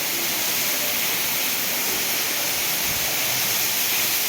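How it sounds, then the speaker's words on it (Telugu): Rain pouring onto a college butterfly garden, a dense, steady hiss of falling drops that stays loud and even throughout, with no voices. "బటర్ఫ్లై గార్డెన్ వర్షానికి తడిసి ముద్దవుతుంది"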